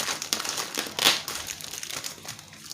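Thick plastic packaging bag crinkles and crackles in short, close, irregular bursts, with one sharper crackle in the middle and no talking.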